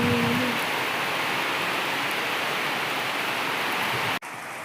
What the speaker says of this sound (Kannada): ಜೋರು ಮಳೆ ನೋಡಿ ಗೈಸ್.